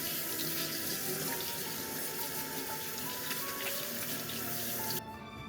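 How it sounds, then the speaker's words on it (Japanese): Tap water runs steadily into a sink while sweet potatoes are washed whole with their skins on, a constant close splashing flow that cuts off abruptly near the end. "まずさつまいもは皮ごとよく洗いましょう。"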